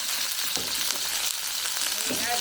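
Food sizzles and fries in a hot pan during a cooking class with coconut milk, a steady close crackle and hiss filling the whole moment.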